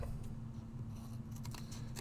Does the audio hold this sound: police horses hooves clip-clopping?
no